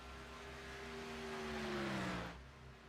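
A race car engine in a racing esports video game holds a high, steady whine that climbs slightly, then drops away abruptly near the end, with no talk heard.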